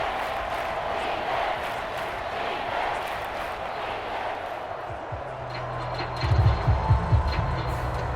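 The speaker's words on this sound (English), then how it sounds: "this crowd's going to get even louder" Crowd noise from a simulated NFL stadium in a Steelers versus Falcons football video game, a steady dense roar that swells louder toward the end, with a commentator talking over it.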